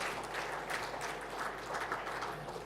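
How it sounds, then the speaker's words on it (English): An audience at an opening ceremony claps in a steady, moderately faint round of applause in a large hall, with a low background hum under it. "A warm applause, please."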